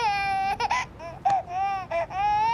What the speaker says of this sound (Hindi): अरे ये रोने की आवाज नहीं है, वाकई बच्चा है।